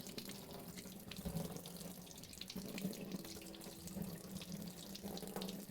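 Hot water runs steadily from a kitchen tap into a sink, a faint, continuous splashing hiss with no voices.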